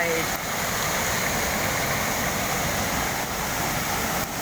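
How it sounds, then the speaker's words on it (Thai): Heavy water flow pouring over the spillway at the head of Kra-ang waterfall after rains, a steady loud broadband rush with no breaks. "บริเวณต้นน้ำตกระอางหรือฝ่ายน้ำล้นนะ วันนี้น้ำเยอะมากเป็นชุ่มฉ่ำหัวใจ"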